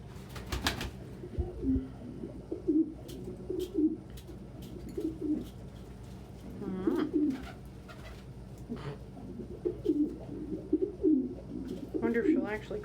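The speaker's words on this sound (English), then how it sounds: "And we are having some chill time with birds." Pigeons or doves coo softly and repeatedly in a calm indoor setting, their low, rolling calls coming close together with occasional faint rustles.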